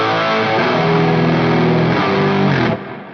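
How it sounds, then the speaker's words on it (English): Guitar chords through fuzz and stereo chorus on an Axe-Fx III ring out loud, thick and woolly, held for nearly three seconds before the sound drops away. "I'm using fuzz and stereo chorus to get kind of like a clipping, collapsing, kind of broken fuzzy tone"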